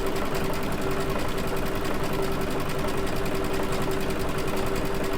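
A Baby Lock Altair sewing machine fitted with a circular sewing attachment runs at full speed, a loud, steady rapid mechanical chatter with a constant motor hum and no pauses.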